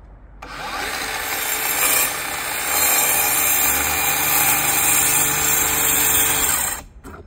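A compact power saw, a small Skil-type circular saw or jigsaw, cuts through a wooden subwoofer speaker panel with a steady, loud, close whine for about six seconds before cutting off abruptly.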